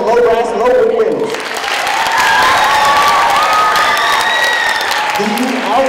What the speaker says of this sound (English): a round of applause for the low brass and open winds